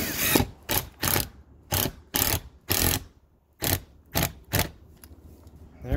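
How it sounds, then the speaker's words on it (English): Short screws driven into a roof with a power drill, in a string of brief whirring bursts separated by pauses, close and loud, with no talk. "I'm just gonna be using some more short screws because I'm really not going very deep"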